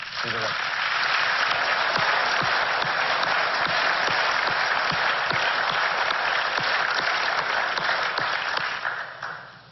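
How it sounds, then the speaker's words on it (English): A city hall audience at a State of the City address applauds its congressional delegation with sustained, dense clapping that stays loud and even for nearly ten seconds before tapering off at the end. "I'd like to give them a round of applause."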